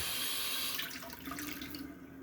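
A tap runs into a sink as a razor, a circa-1907 Ever-Ready, is rinsed off after shaving; a faint steady stream with brief splashing and clinks midway.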